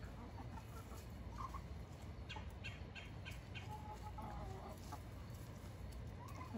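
Chickens clucking outdoors on a rainy day, soft intermittent clucks over a constant wash of rain, faint and somewhat distant, with no talk.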